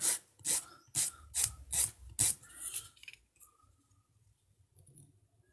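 Nail file rasping over full-cover nail stickers, close and loud: about seven quick strokes in a steady rhythm, then quieter scattered rubbing and faint clicks.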